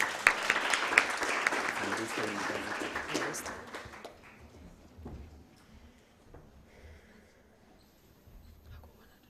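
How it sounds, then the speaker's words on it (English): Audience clapping at a university moot court competition final in Kenya as a student receives an award; a burst of lively applause fades over the first few seconds into quiet room noise with faint stray sounds. "Clap for her."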